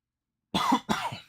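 Two quick, loud coughs close up, one right after the other, with no talking.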